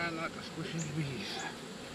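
Bees hum around an open beehive in a soft, continuous drone, with a few individual buzzes rising and falling nearby and a faint voice underneath.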